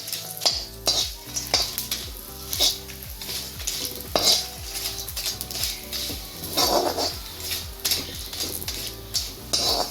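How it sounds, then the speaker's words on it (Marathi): Cinnamon dry-roasts in a pan with repeated scraping stirs against the metal, a rhythmic series of close strokes over a light sizzle. "दालचिनी भाजून घ्यायची आपण."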